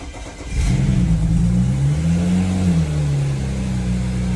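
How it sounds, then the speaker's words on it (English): A BMW 335i engine cranks briefly, then catches and settles into a loud, steady idle with a continuous low hum and a slight wavering pitch, heard alone up close after a leaky valve cover and PCV repair. "It'll probably take a little while to crank because there'll be no fuel pressure in the rail."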